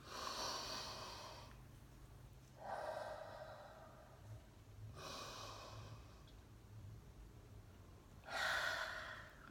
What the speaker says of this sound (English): Rub it in between your hands. Breathe it deeply.